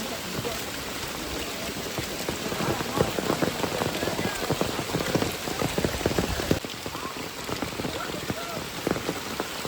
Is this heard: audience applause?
no